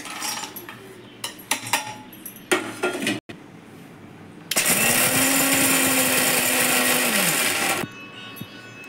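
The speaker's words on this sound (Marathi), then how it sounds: "चला तर आपण हे वाटून घेऊया मिक्सरमधून।" Clinks of dishes and utensils, then a mixer grinder coarsely grinding potatoes and peanuts whirs loudly for about three seconds, its motor pitch steady before it stops.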